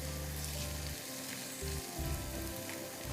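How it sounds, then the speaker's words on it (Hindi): Chopped onions frying in a pan give a steady, close, continuous sizzle and crackle, with a low hum underneath and no voices. "प्याज को अच्छी तरह हम भूनेंगे"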